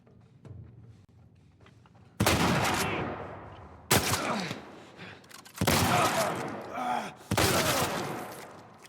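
Gunfire in The Last of Us: four loud, sharp bursts of shots with ringing decay, spaced a second or two apart, over a quiet, rumbling game backdrop with faint voice sounds.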